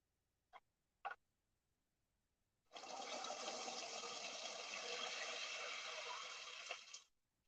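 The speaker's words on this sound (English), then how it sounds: "we're gonna drain off our water, and then we're going to rinse the peas" Water pours through a colander while rinsing peas over a bucket, a steady close rushing splash lasting several seconds after two faint clicks, then stopping abruptly.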